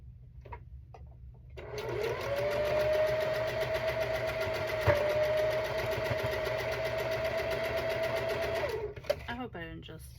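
A sewing machine stitches a cat-themed quilt in one long steady run of several seconds, with quieter handling and faint talk before and after the stitching.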